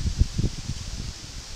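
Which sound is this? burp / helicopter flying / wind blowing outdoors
wind blowing outdoors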